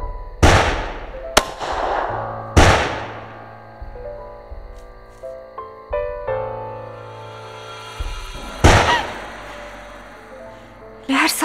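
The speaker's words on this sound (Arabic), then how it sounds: "رصاصة بليل." Gunshots at night, several loud sharp cracks ringing out at uneven intervals, with tense music tones and shouting voices between them.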